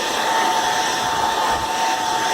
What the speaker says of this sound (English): carefully, very carefully hit that with a dryer